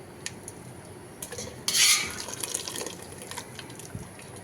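Water poured into a cooking pot while making dajaj majboos, a brief splashing burst at close range rising from quiet kitchen noise, then trickling and fading away.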